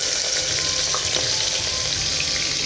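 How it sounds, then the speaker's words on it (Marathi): Sliced onions sizzle and fry steadily in hot oil in a pan for mutton dum biryani, a loud continuous crackling hiss with no talking. "याला छान मस्त आता फ्राय करून घेऊ कांद्याला"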